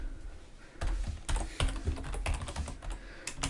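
Clattering keystrokes on a computer keyboard come in quick irregular bursts, close and crisp, with no voices.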